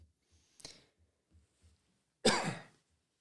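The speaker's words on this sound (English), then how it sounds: "sorry for the coughing. I don't know what's going on with my throat." A man coughs and clears his throat, with a few soft, small throat noises followed by one sharp, harsher cough, close and alone.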